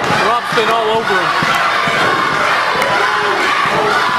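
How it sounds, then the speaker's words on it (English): Wrestling arena crowd at a tag-team match chanting a wrestler's name in loud rhythmic unison, with cheering and shouting filling the hall. "Now they're chanting Cutler"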